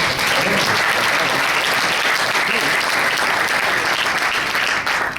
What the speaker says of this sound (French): on peut donner une bonne main d'applaudissement au plan de conversation